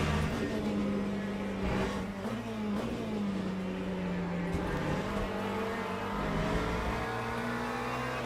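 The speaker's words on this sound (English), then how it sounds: "Looks so cool when the Hypers go by" Hypercars in the Le Mans Ultimate racing sim roar past with a steady, loud engine drone whose pitch sweeps up and down as they go by, continuous throughout with faint talk underneath.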